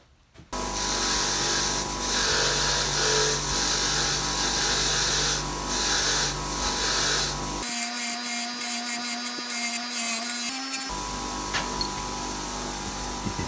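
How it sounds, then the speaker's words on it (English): A wire wheel on an angle grinder scrubs grime off a gungy bolt on a Toyota 45 Series, a loud continuous whine with scratchy rasping that shifts pitch midway as the load changes, no talking. "a wire wheel and a grinder is the best tool you can have"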